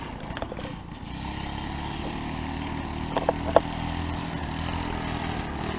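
A home-built go-kart engine runs with a steady, droning buzz that begins to stumble as the fuel runs out, with a few sharp pops and sputters breaking through the hum.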